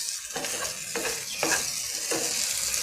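Steady sizzling hiss of beef brain frying in a pan, with a few louder bursts as it is stirred or moved around; no voices.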